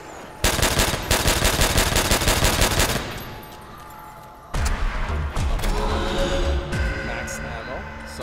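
Video game gunfire from Call of Duty World at War Nazi Zombies: loud rapid automatic bursts for about three seconds, a short lull, then more sustained firing with scattered shots and game effects.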